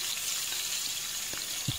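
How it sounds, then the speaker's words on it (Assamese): Onions fry in hot oil for chicken biryani, a close steady crackling sizzle with a few louder pops and spatters near the end and no talking over it. "পিঁয়াজ মই ভাজিছোঁ, তাতে আৰু অলপমান তেল দি দিছোঁ"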